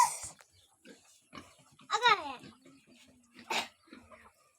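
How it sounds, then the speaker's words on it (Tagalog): Pigs grunt and squeal close by in short, irregular bursts, with brief quiet gaps between calls. "This is our pig."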